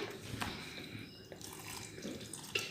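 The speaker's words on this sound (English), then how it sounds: "I'm going to add some water to grind." Water is poured onto chopped mango in a grinder jar in a home kitchen, a soft continuous splashing trickle with small clinks and no talking.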